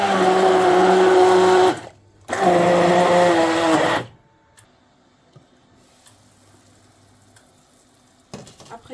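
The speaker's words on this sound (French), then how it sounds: "Après avoir mixé vos ingrédients" An electric blender whirs loudly while mixing ingredients for okra sauce with ginger powder, running in two bursts of about two seconds each separated by a brief pause, then cutting off to near quiet with faint clicks.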